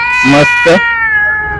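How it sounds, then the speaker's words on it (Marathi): A cat at Hinjewadi market in Pune gives two short, close meows in quick succession, over a steady background tone, with a person speaking briefly. "म्याव म्याव करते"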